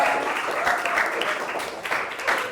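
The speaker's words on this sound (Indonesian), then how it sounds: "Coba tepuk tangan buat Freya." Group applause in a classroom-style gathering, a dense continuous patter of many hands clapping at once, fairly close and steady throughout.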